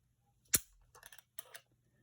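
The trigger of a Thompson Center Contender Armor Alloy II, a break-action single-shot firearm, snaps with a sharp mechanical click, then gives a few faint rattling clicks as a trigger pull gauge settles, close and quiet.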